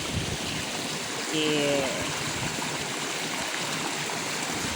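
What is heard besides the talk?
noisy flowing canal water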